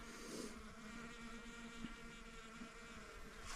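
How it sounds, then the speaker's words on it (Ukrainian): A faint, steady buzz of many bees hums continuously over flowering phacelia, with no talking. "бджоли просто гудуть."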